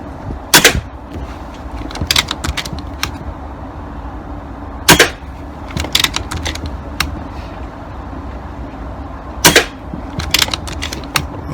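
Air rifle pellets fired at a white paper target: three sharp, loud cracks roughly four seconds apart, each followed by a short cluster of lighter clicks over a low steady background hum.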